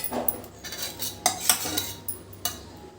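A spoon scrapes and clinks against a pan while stirring ghee, fried cashews, cardamom powder and jaggery for rava laddu, a handful of sharp metallic knocks over a soft steady background, close and with no voices.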